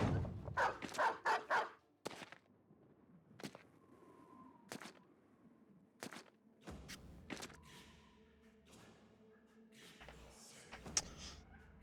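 War dogs in the Battle Brothers game barking, a quick burst of loud barks at first, then scattered single barks and yips at intervals amid soft thuds and background noise.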